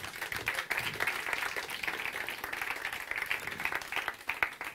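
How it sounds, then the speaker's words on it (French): Church congregation applauding, a steady wash of many hands clapping at moderate distance, fairly quiet and continuous throughout. "On peut les applaudir,"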